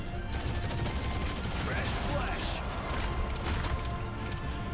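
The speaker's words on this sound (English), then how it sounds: "The Heretic fire rate is so crazy." The Heretic gun in Shadowgun Legends fires rapidly in a continuous burst of loud clattering shots within busy arena combat, with someone talking over the gunfire.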